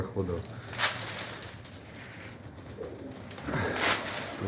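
Pigeons coo softly in a loft in winter, low murmuring calls with a couple of louder flutters or rustles, set under a man's speech.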